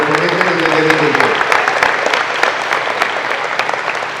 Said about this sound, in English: So a big round of applause to all of you guys for the commitment and the dedication.